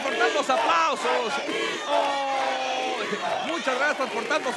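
A TV show studio audience cheers and applauds, loud excited crowd shouts and whoops rising and falling over a dense clapping bed, with voices calling out near the microphone throughout.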